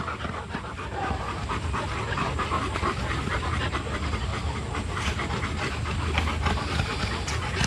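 Rottweiler panting steadily and close by, rapid breathy rhythm running without pause throughout, no talking.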